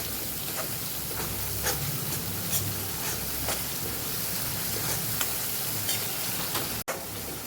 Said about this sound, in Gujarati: બધું પાણી બળી જાય ત્યાં સુધી આપણે સાતડી લેવાની છે